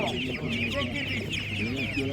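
Chickens cluck at an animal market, a busy run of close, overlapping calls over a low murmur of crowd noise.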